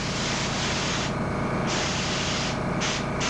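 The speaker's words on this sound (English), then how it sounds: "some of the spray goes on his lower lip" Steady hiss of an airbrush or spray gun painting a redbreasted sunfish taxidermy mount, the spray swelling and easing in short bursts, close by, with no talking.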